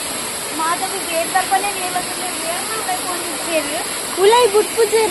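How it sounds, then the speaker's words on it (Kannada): A waterfall roars as a constant loud rushing wash near a bridge viewpoint, with a voice talking over it throughout. "ಅಯ್ಯಯ್ಯ ಜಲಪಾತ."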